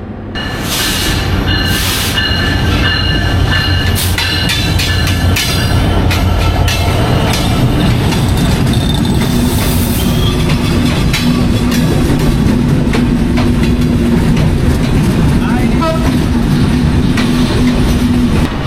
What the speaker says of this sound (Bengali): রাজশাহী থেকে চলে আসলো সিল্ক সিটি এক্সপ্রেস